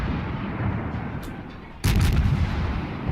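Naval gunfire in World of Warships striking a tier 3 Russian cruiser, a Bogatyr, heard as a sudden loud boom and impact rumble midway through a continuous heavy battle din of engine and sea noise.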